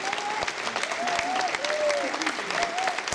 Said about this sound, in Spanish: Un aplauso para la arquitecta Gabriela Gianetti,